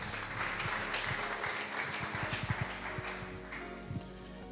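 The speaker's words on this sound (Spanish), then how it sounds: "¿Cuántos aplauden al Eterno?" A church congregation at a Messianic service claps in a brief burst of applause, moderately near, with irregular individual claps standing out before it thins and fades.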